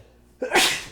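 A single close, loud human sneeze with a brief intake of breath before the sharp, breathy burst that trails off within half a second.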